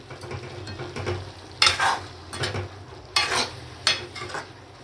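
Black chickpeas being stirred with chana masala powder in a pan, a low sizzle under several bursts of scraping and clinking from a spoon against the metal, close and irregular, no talking.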